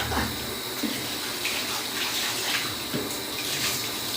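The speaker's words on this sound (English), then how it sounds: "the rinse-a-roo, slip-on tub hose, y'all" A slip-on tub hose runs a steady, close stream of water while rinsing a dog in a bathtub, with faint splashes and shifts in the spray throughout.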